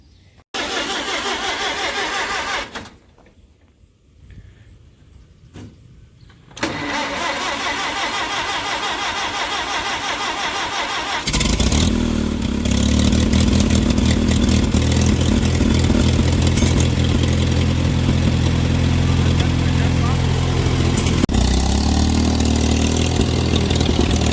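Farmall M tractor engine starting, with a short crank and a sputter, then a brief lull before the engine catches and settles into a loud, steady running rumble that grows heavier and continues.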